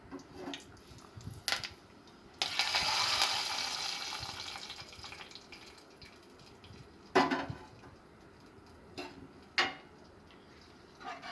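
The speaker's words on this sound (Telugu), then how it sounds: "పప్పులోకి ఆ తాలింపు వేయాలి" Hot tempering of curry leaves pours into fenugreek-leaf and tomato dal. It gives one loud hissing sizzle that fades over about two seconds, set between a few sharp kitchen clinks and taps.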